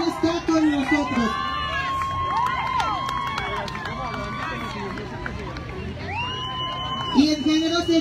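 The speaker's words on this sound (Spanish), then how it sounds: "Denle más fuerte el aplauso" A crowd at an outdoor Christian event in Engativá cheering and whooping with sustained applause, loud and close, voices rising and falling in wavering shouts throughout.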